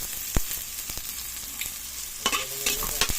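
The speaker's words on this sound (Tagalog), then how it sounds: "Mix na guys ang sibuyas." Onions sizzle in a hot pan while being stirred for adobong kangkong, with a steady frying hiss broken by scattered spatula scrapes and clinks, a few clustered near the end.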